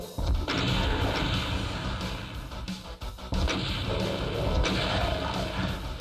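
Repeated explosions and weapon blasts from the classic Doom shooter, E1M4 level, loud and dense, booming one after another with barely a pause throughout.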